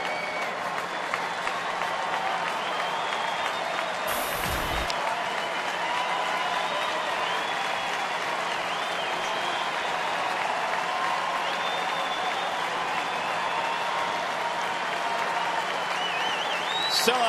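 A sellout crowd of about 40,551 at an evening major-league baseball game, Angels at Detroit, stands and applauds in a steady, sustained roar that fills the ballpark, with an announcer talking over it.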